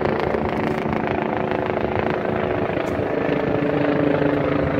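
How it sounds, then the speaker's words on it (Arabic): A helicopter passes over a large park near a mosque in Algiers, its broad steady rotor and engine roar filling the scene continuously without a pause. "وهنا شوفوا طائره تاع هليكوبتر"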